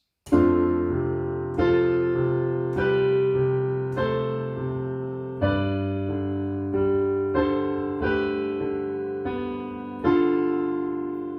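Solo piano playing a slow sequence of two-note chords, each struck cleanly and left to ring and decay before the next, about nine in all.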